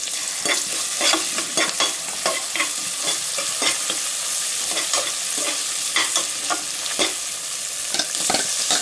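Green chili, ginger and garlic paste sizzles steadily in a hot pan while a spoon scrapes and stirs it in repeated sharp strokes, loud and close, with no voices, as the base for a pulao.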